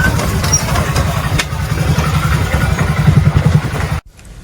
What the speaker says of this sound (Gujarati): બાઈક